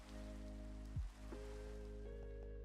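Steady rainfall in the Minecraft modpack GregTech: New Horizons, a continuous, even wash of falling rain with a low constant rumble beneath, briefly interrupted by a short louder thump near the middle.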